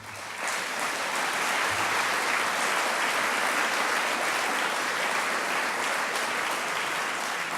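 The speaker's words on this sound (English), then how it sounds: "How about another round of applause for Sky Martin?" Sustained audience applause at a Memorial Day commemoration at the Nixon Library, steady dense clapping of a crowd filling the whole stretch without letup.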